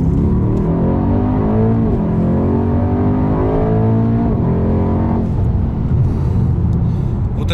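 A Mercedes E63 AMG engine pulls hard under full throttle, a loud, close, continuous roar with rising harmonic sweeps as it climbs through the gears, briefly easing near the middle before surging again.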